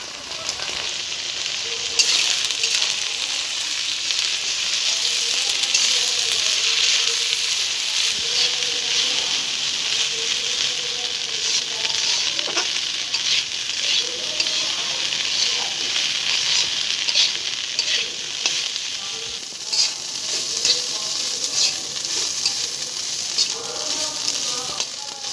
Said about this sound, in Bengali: শুটকি মাছটা আমার ভালোভাবে ভাজা হয়ে গেছে